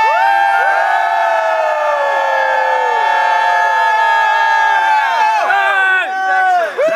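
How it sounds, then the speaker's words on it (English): Occupy Amsterdam protesters scream loudly and together in a sustained, dense chorus of high voices. The shouting fades and breaks apart near the end. "Can I get a scream out of you?"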